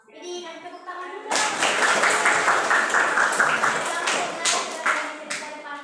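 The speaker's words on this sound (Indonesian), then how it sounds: "kasih tepuk tangan dulu" A brief voice, then a group breaks into loud, sustained clapping and applause close by that continues to the end.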